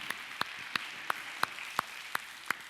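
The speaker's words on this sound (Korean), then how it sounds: "설혜교 환영의 박수 한번 하겠습니다" Faint, evenly spaced single claps, about three each second, ring out in a quiet room during a Korean church welcome for newcomers.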